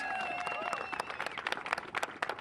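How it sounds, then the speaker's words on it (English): An audience at Kennedy Space Center claps for the Artemis II backup astronauts, crowd applause under a whistling tone at first and turning into separate, distinct claps. "give them all a round of applause"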